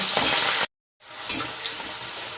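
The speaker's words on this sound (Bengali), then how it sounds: "আস্তে আস্তে রসুনটা ভালো করে লালচে করে ভেজে দিচ্ছি" Garlic frying in a pan on a gas stove gives a close, steady sizzle with stirring scrapes, broken by a short silent gap before the sizzling resumes.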